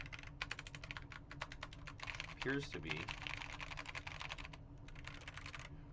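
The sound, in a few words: switches clicking on Npet K63 soldered switch tester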